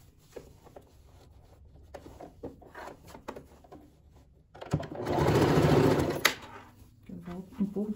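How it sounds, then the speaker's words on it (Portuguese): A sewing machine topstitches the lining seam of a multi-pocket bag. After some quiet handling and faint voice sounds, a steady whirring run of about two seconds stitches up close, followed by more fabric shuffling. "Aqui eu venho e rebato essa costura do forro aqui também"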